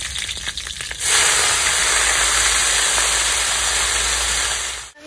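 Green chillies sizzle loudly in hot oil in a pan, a steady bright hiss that bursts in after a second of quieter stirring and holds without pause, with no talking.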